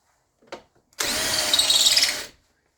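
A power drill gives a brief tap, then whirs steadily for about a second and a half at close range, bench work on a chainsaw milling jig, with no talking.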